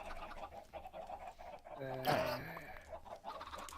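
Minecraft chickens on a small farm cluck in a brief burst midway, set against steady in-game background sound.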